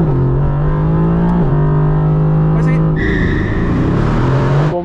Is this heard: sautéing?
no